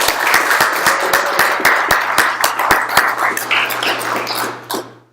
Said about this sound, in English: So I'd like everyone to give these guys a round of applause.